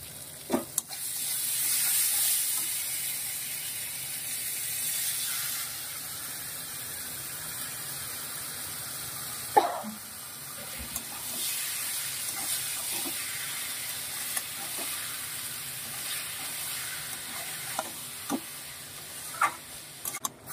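Octopus frying with spices in a pan, a continuous soft sizzle and steamy hiss with occasional sharp clicks and taps of a utensil stirring, no talking.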